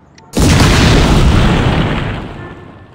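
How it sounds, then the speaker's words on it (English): A bomb detonating in the game The Godfather II, one sudden loud boom that hits after a brief quiet and rolls on as a long, slowly fading rumble. "Set a bomb there."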